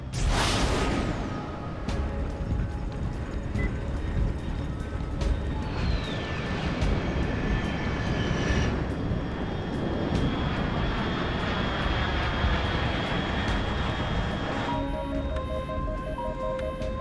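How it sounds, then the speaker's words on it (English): A fixed-wing aircraft roars overhead in the video game Metal Gear Solid Snake Eater, a loud sustained engine rumble with a rising whine that sweeps past, joined briefly by a soft whoosh before a steady tone takes over. "Unidentified aircraft detected."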